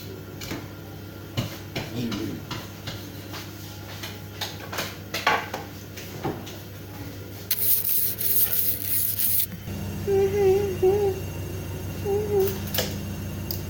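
A clothes brush rubbing back and forth in repeated short scratchy strokes, up close, with a burst of louder brushing partway through and voices talking in the background.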